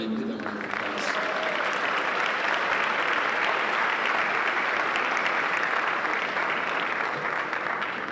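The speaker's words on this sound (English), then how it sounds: "Give them a round of applause." Full audience applause at a high school spring chorus concert for the sound crew, a dense continuous roar of clapping that starts abruptly and holds steady.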